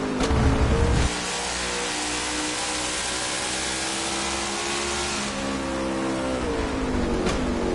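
A NASCAR Cup stock car at Sonoma Raceway braking hard into turn 11, a loud droning V8 roar that drops after a sharp downshift, then holds a steady rasping engine note with rising and falling harmonics as it passes.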